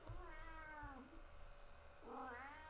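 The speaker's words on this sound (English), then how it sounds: "Okay, I'm sorry, my cat is here." A pet cat meows twice indoors, two drawn-out rising-and-falling calls, the second louder, against a quiet room background with no talking.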